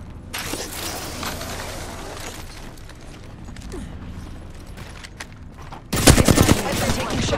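Gunfire in a duos battle-royale video game: a steady bed of game noise with scattered shots, then a loud burst of rapid automatic fire near the end.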